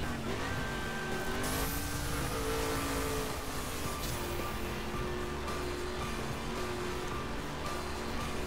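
A Ford Mustang in The Crew drives on, its engine holding a steady, loud drone with rising and shifting tones as it accelerates, close and continuous the whole time.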